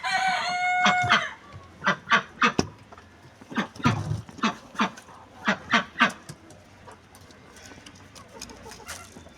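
Chickens and pigeons being fed corn at a backyard coop: a rooster crows at the start, followed by a close series of loud, rhythmic clucks and squawks over soft rustling.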